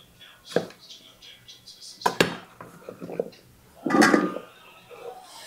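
Squash cut into chunks with a knife in a home kitchen: clattering cutlery and board knocks, a few sharper chops and a scraping burst near the end, close and moderately loud amid faint background sounds.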